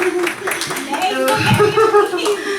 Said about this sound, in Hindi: तालियां इसी बात पे।